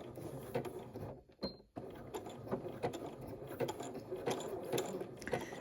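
A sewing machine stitches fabric to the edge and back stitches there, giving a busy clattering mechanical run that pauses briefly near the start and then carries on steadily at close range.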